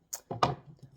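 Knife chopping celery on a cutting board for chicken noodle soup, three quick sharp chops followed by softer taps, close and dry.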